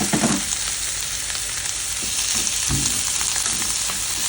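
Garlic, onion and seafood are sautéed in a pan for a ginisang sayote dish, with a loud, continuous hiss of frying and occasional stirring clunks up close.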